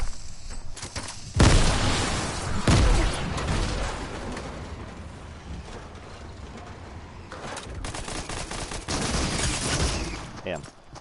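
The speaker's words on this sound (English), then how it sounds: "Who's shooting cannonballs at my..." Cannonballs firing in Fortnite: a couple of heavy booming blasts near the start, followed by a rumbling, cluttered mix of game noise with further bursts later, moderately loud.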